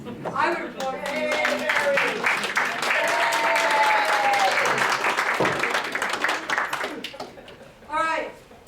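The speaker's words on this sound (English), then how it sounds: "I would applaud you." Applause fills a borough board meeting hall, a steady wash of clapping from the room that runs for several seconds under voices, fades briefly, then swells again in a short burst near the end.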